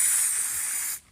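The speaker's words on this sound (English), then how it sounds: "you want to spray the oil into the top fin of each" An aerosol can sprays oil onto a K&N air filter, a close, loud continuous hiss that stops briefly near the end and then resumes.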